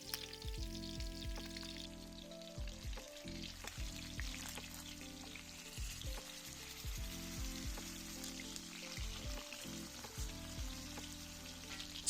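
Snapper laid head to tail sizzles steadily in hot oil in a pan as oil is spooned over the fish, a continuous crackle running under a prominent tonal backing throughout.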